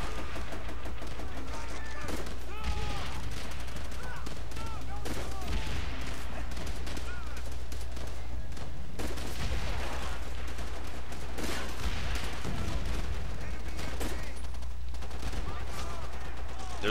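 Call of Duty: World at War combat with rapid rattling gunfire and scattered shots over a steady low rumble, fairly quiet in the mix.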